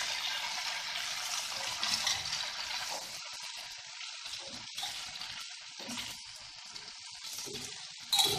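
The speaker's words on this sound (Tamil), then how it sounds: "அந்த முட்டை, ஜீனி, பால் எல்லாம் சேர்ந்த கலவையை அப்படியே அந்த பிரெட்டு மேலே சுற்றி கொஞ்சமாக அப்படி ஊற்றி விடுங்க" Bread fries in a pan as an egg, sugar and milk mixture is poured over it, giving a soft, steady sizzle and hiss that fades slightly midway, with a faint clink near the end.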